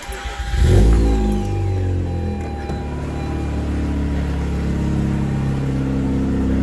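Mazda RX-8 rotary engine fitted with a BHR midpipe starts up with a loud crank and catch, then settles into a steady, deep idle close by.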